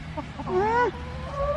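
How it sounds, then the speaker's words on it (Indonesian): A chicken clucks close by in a few quick rising-and-falling calls with a brief trailing cluck, heard over faint background murmur on a farm. "Tangkap ayam kah?"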